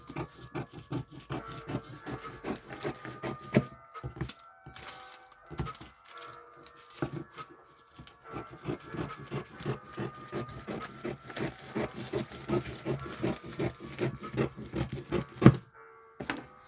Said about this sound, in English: So now I'm going to cut along this side.